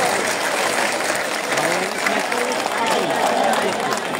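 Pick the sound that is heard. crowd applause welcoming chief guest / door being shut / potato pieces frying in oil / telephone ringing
crowd applause welcoming chief guest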